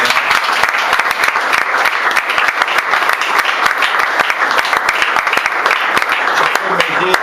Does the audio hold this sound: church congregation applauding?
yes